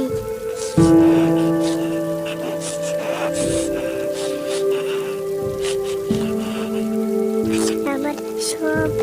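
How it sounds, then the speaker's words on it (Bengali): Heavy rain in a Bangla cartoon about floodwater, a steady dense patter with sharp drop hits over a sustained background tone, loud and continuous throughout. "এই বৃষ্টি তো কমছেই না আরও পানি আরও বাড়ছে শুধু বাড়ছে"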